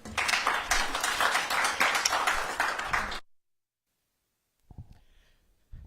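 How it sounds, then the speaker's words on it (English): Conference audience applause, a dense patter of many hands clapping for about three seconds before cutting off abruptly into silence, followed by a few faint taps and a soft tone. "Another round of applause, ladies and gentlemen, for RPAZ CEO, Mr. Chipuru"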